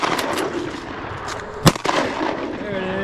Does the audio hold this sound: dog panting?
no